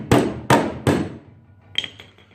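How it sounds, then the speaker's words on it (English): A body hammer strikes the metal floor pan of a 1965 Mustang three times in an even rhythm, each blow loud and ringing, followed by lighter metallic taps. "where I can then take my body hammer"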